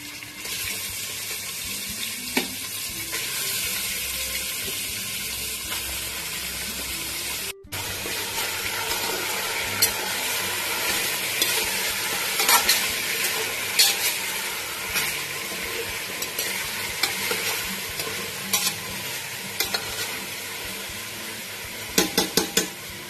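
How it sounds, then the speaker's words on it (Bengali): Chicken frying in hot oil with crushed ginger and garlic, a dense close sizzle with stirring scrapes and occasional spoon knocks against the pan, briefly cut once partway. "আদা রসুন থেতো করে রেখেছিলাম দিয়ে দিচ্ছি ধুয়ে রাখা চিকেনগুলো দিয়ে দিলাম"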